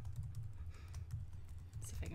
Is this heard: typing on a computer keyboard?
yes